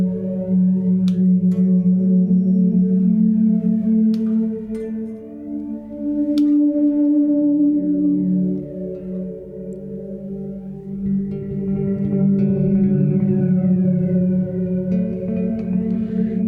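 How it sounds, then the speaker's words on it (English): Bass guitar notes ring through a Keeley reverb pedal, smooth sustained tones with long washy tails and a few sharp plucked attacks, played alone at moderate volume. "Then we'll add the reverb and it'll kind of make it all sound nice and smooth and pretty."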